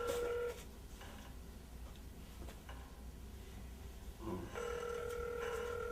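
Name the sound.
telephone ringing unanswered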